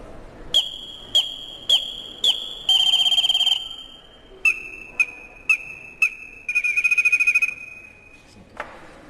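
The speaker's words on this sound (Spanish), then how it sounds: "Aquí hay pequeños silbatos, colibríes. Cantan como colibrí." A series of short, shrill blasts from a clay hummingbird whistle with chirpy upward slides, then two longer warbling trills, repeated at a lower pitch and ending with a quick squeak.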